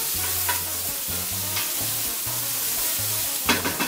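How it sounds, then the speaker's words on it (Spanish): Onion sautéing in oil for yellow rice with chicken, a steady sizzle broken by repeated rhythmic stirring scrapes, with a few louder clinks near the end. "un chorrito más de aceitito le echamos nada más, un poquito, para que pueda sofreír nuestra cebolla"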